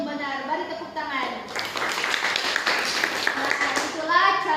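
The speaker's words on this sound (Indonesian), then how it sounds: "Beri tepuk tangan." A classroom of pupils claps for a classmate's correct answer during a geometry lesson, a burst of brisk group clapping rising after a voice and continuing as speech resumes.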